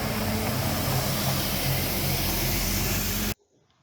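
A surface dressing machine sprays binder across a road in India, making a loud, continuous, close-up hiss that holds steady for several seconds and then cuts off abruptly.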